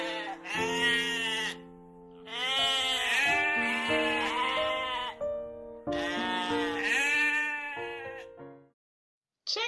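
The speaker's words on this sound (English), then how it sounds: "Goat. G-O-A-T, goat." A goat bleats loudly and close by in two long, wavering calls separated by a short pause, clear with no background noise, then cuts off.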